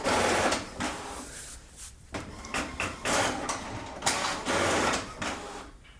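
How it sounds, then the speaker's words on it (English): An HP ENVY Inspire inkjet printer prints a network configuration page, with loud mechanical whirring and clattering in uneven bursts as paper feeds through and the print head moves, close by and with no speech. "Make sure your printer has some paper because the password will get printed."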